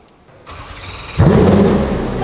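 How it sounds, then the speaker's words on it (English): A Koenigsegg Jesko engine cranks and catches close by, then settles into a loud, steady rumble. "Starts up like a motorbike as well."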